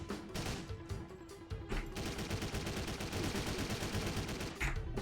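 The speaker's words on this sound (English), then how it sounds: "he shoots through the wall at you" Muffled gunfire coming through a wall in the game Driv3r, a continuous dense rattle of shots with a few sharper cracks, fairly faint and steady over a low rumble.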